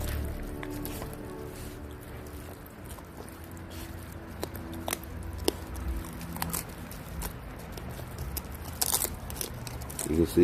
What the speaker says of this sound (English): You can see him munching through that bone using his back molars as he should, chewing it properly.